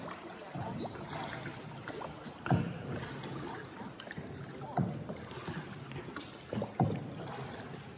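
A small boat moves over the Puerto Princesa Underground River in Palawan with steady broadband rushing and engine-like drone, punctuated by a few splashy thumps every couple of seconds.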